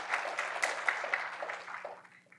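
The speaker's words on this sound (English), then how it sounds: "Let's give it another round of applause for her." An awards-ceremony audience claps steadily in a broad, even wash of applause that gradually fades toward the end.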